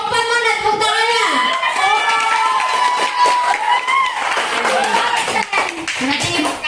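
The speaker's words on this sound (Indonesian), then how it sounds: "Untuk kelompok 4 mana tepuk tangannya?" A classroom of students claps and cheers for group 4 near the end of a lesson, with children's voices shouting and calling out over steady, fairly loud clapping throughout.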